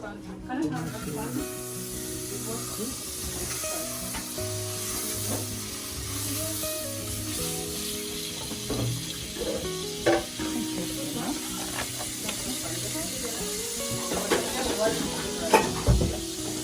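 Mushrooms frying in a pan during a cooking class, a steady close sizzle and hiss running throughout with occasional stirring scrapes and clinks, partly under talk.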